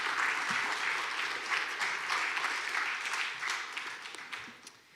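A Sunday church congregation applauds its senior pastor with dense, steady clapping that fills the room and then fades out toward the end.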